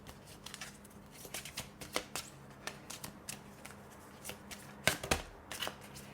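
Tarot cards are shuffled by hand in a quiet room, a steady run of soft riffling flicks and taps over several seconds, with a slightly louder burst of card snaps near the end.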